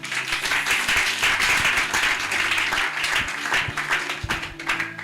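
A church congregation applauds to acclaim the Lord, loud close-up clapping in a dense, uneven burst that holds steady and then thins slightly toward the end.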